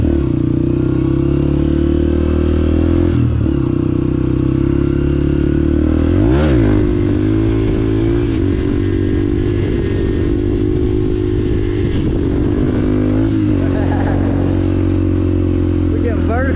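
A 150cc dirt bike engine revs hard while being ridden, a loud, continuous close buzzing drone with surges of throttle and clattering, filling the whole stretch without pause.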